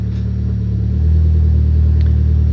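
A 2008-2016 Mitsubishi Lancer sits running close by, its steady engine idle rumbling evenly and deepening slightly as it is shifted into reverse, with no voices.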